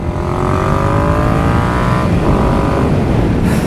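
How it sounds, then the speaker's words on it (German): A 2018 Yamaha MT-07 motorcycle on a test ride roars loud and close, its engine note sliding down as the throttle eases off, with a rough crackling exhaust texture throughout. "es schießt auch so richtig fein, wenn man mal vom Gas dann wieder runter geht"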